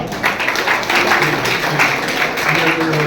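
A crowd at a Janata Dal (Secular) party office event in Bengaluru applauds to welcome guests, a steady wash of clapping with a loudspeaker voice and crowd noise mixed through it.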